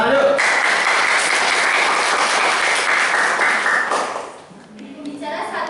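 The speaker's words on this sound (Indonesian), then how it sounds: "Tepuk tangan yuk." Debate audience applauds loudly in a dense, steady burst of clapping that fades out near the end, followed by a few faint scattered sounds.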